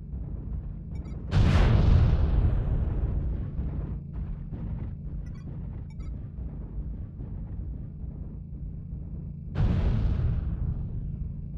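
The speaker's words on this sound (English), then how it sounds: "Artillery strike online." Two heavy artillery blasts in a video game, each a sudden deep boom with a long rumbling tail, landing several seconds apart over low ambient noise.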